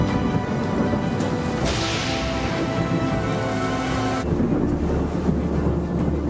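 A tropical thunderstorm rolls over the Merdeka Tower skyscraper construction site in Malaysia, with a steady broadband roar of rain and wind and a deep rumble swelling and fading, no voices.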